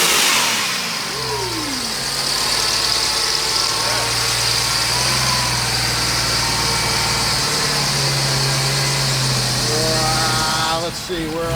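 A standalone 6.0L Gen 3 V8 with a VCM cam idles close by in a loud, continuous, steady rumble with small shifts in pitch, while someone talks over it.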